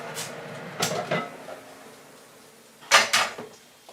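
A halogen oven being opened in a home kitchen: a few sharp clicks and knocks of its lid and fittings, in two clusters several seconds apart, close and moderately loud over quiet room noise.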